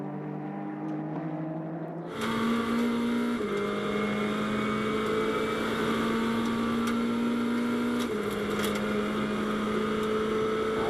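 GT race cars including a Ferrari at Las Vegas Motor Speedway in a Blancpain GT World Challenge America race: a quiet start, then a sudden loud engine whine that holds and steps in pitch with gear changes.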